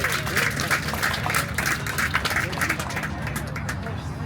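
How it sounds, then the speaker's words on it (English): An outdoor crowd at a sprint triathlon awards ceremony applauds the top women finishers, dense rhythmic clapping with cheering and crowd chatter mixed in, steady throughout. "And another round of applause, please,"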